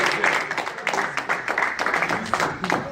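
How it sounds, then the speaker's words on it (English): An audience at a debate symposium claps steadily with a scattered, moderately close patter of hands that holds for several seconds. "Please, can we clap for them"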